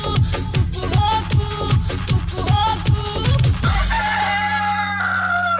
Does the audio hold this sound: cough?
no